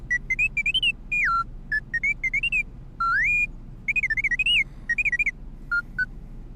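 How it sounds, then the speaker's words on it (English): T3-M4 droid from the KOTOR 2 game chirping in rapid bursts of high warbling, rising and falling electronic beeps, loud and close, over a faint low hum. "Another beep out of you and you're scrap."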